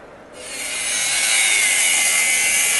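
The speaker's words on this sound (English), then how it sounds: "There is some screws that's staying on, so we're cutting them." A power tool cuts through screws left in a wooden garage door frame, a loud steady grinding rasp that starts abruptly after a quiet moment and holds unbroken.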